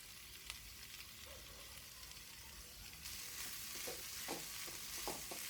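Vegetables with coriander leaves sizzle steadily in a pan over a medium flame as they are stirred for a lasagne filling, with brief scraping clinks from the spoon growing louder toward the end.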